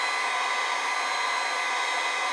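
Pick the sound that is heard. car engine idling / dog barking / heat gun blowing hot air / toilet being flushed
heat gun blowing hot air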